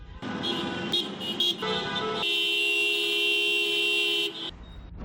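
Car horns blare in heavy Christmas-rush traffic on EDSA in Metro Manila: a few short toots, then a long, loud sustained honk close by over the low rumble of vehicles.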